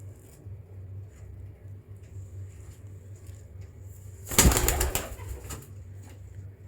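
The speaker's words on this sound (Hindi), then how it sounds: "बड़ी ठापे मारता जी कबूतर" A pigeon claps its wings in a sharp burst of loud flapping midway, against a quiet background with a low hum before and after.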